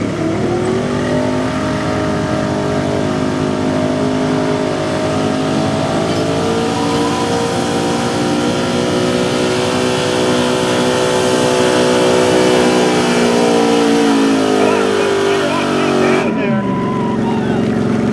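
A gas 2002 Chevy 2500 4x4 truck at a truck pull roars under sustained full throttle, its loud engine drone climbing steadily for about sixteen seconds before cutting off abruptly near the end, with an announcer's voice over it.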